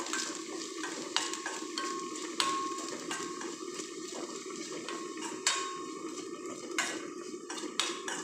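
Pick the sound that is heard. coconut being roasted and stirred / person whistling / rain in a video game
coconut being roasted and stirred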